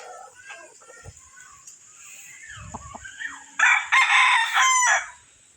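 A White Leg broodcock and other chickens crow and cluck, several crows rising loud and close near the end after scattered softer clucks.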